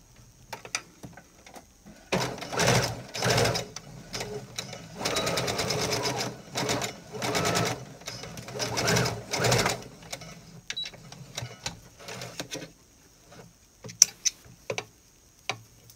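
A home sewing machine sews a straight stitch on swimsuit fabric for a halter bikini top, whirring close in several long runs with brief stops between them, then dropping to quiet ticks and faint handling sounds near the end.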